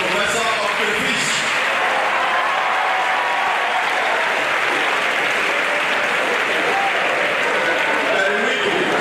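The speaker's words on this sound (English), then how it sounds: "Another round of applause for the Professor of Crayfish." A lecture audience at an aquatic ecology event applauds a crayfish professor, with continuous, loud, dense clapping throughout and some voices and cheering mixed into the crowd noise.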